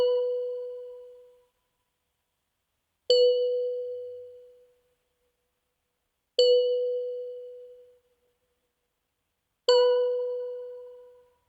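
A synth bell from the Pigments plugin strikes four times at even intervals of about three seconds, each a bright clean ding that decays smoothly to silence, heard alone.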